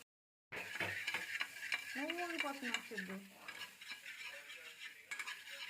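Coriander fries in butter in a pan, a soft sizzle under repeated scraping and clinking of a utensil as it is stirred, with a brief voice in the middle.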